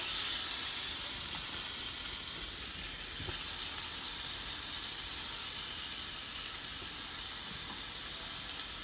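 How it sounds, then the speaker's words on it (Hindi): Peri peri chicken pieces sizzle on a hot grill, a steady close crackling hiss that carries on evenly without any voices. "मैंने ग्रिल पे सब चिकन रख दिया"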